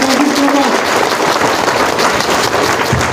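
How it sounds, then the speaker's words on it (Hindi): Audience in a hall applauds loudly and continuously at a Vestige business event in Kathmandu, Nepal, a dense wash of clapping that holds steady for the whole stretch. "तो एक बार आप अपने लिए जोरदार तालियां बजा सकते हैं"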